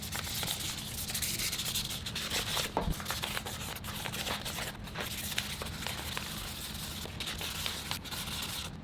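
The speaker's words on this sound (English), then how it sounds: "I'm going to sand it first, because these are older spoons and knives" Older metal spoons and knives being sanded by hand with 800 grit sandpaper give a steady, close, dense rasping rub that carries on without a break, with no talk.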